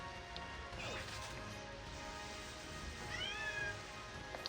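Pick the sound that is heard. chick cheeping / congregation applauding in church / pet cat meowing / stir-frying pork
pet cat meowing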